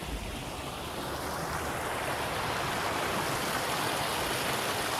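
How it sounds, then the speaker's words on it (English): A creek flows past a crossing on a bush walk, a steady, close rush of water that holds even throughout with no voices. "the best creek crossing on this walk"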